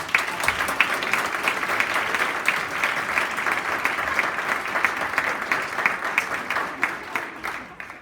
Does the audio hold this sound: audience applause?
yes